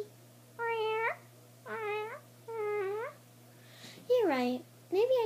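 A voice imitates a cat, giving three drawn-out meows in a steady rhythm, then a higher, rising meow and a short one, close and clear over a faint steady hum.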